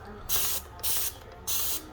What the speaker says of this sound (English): what I'm going to use on this is Dawn Platinum Power Wash. Okay, this will spray on like this.